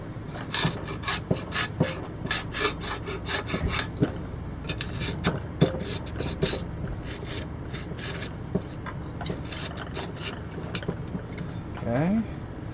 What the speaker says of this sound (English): I am scraping off this old foam that's glued to the side